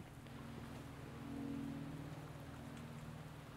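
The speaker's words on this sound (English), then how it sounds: "it's raining out here" Steady rain falls in the video game Wuthering Waves, a soft continuous patter over a low rumbling drone, faint and even with no voices.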